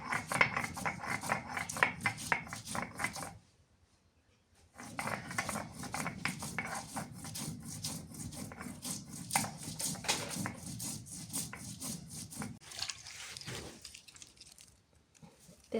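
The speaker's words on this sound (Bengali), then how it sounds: "এই পাশে আমি একটু মশলা বেটে দিই।" Spices being ground by hand on a grinding stone, a continuous rhythmic scraping and rubbing with quick repeated strokes, close and fairly quiet, with one short pause.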